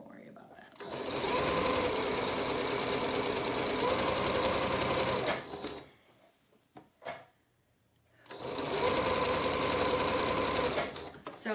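A sewing machine runs a curved hem in two long continuous stretches of fast, even stitching, separated by a quiet pause with a few small handling clicks, close and steady.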